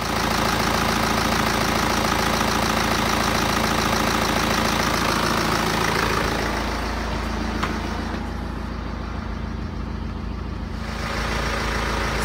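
A BMW diesel engine from the N47/N57/B47/B57/B37 family, its intake manifold fouled with soot, idles nearby in a steady, continuous rumble. The sound stays dense and unbroken throughout, with no voices.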